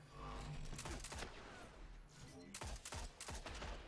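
A shotgun fires in the video game Destiny, with a series of loud, punchy blasts and sharp impacts spread unevenly over a few seconds, amid dense game noise.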